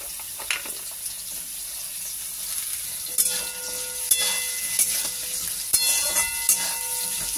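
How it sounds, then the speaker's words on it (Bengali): Carrots frying in a pan for fried rice hiss and sizzle steadily at close range, broken by several sharp stirring scrapes and knocks in the second half; no talking. "এবার আমি সবজিগুলো ভাজবো, তার জন্য গাজরটাকে আগে দিয়ে দিচ্ছি"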